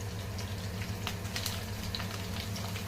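Chopped green chillies sizzle in hot oil with mustard and cumin seeds, a continuous crackling hiss and scattered sharp pops. No one speaks.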